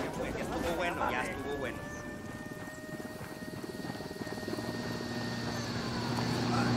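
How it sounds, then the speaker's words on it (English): Helicopter in Ghost Recon Wildlands, a steady rotor drone with a sustained engine whine throughout, mixed under game sounds. "My helicopter is damaged."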